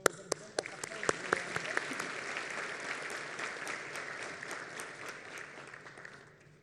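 Audience applause at a University of Kurdistan graduation ceremony, honouring graduates' parents and faculty: a few sharp claps build into steady, dense clapping from a large crowd that slowly fades away.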